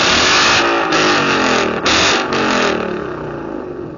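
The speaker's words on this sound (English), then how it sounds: "So now let's give it a nice little exhaust rev." A Ford Mustang GT S550 with an H-pipe and Roush axle-back exhaust is revved, its loud, gritty engine note climbing and falling in a few quick surges before settling into a fading drone.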